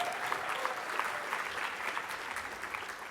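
An audience at a capitol summit award presentation applauds Assemblymember speaker Robert Rivas, a steady, even wash of many hands clapping, fairly faint and distant, with no talk over it.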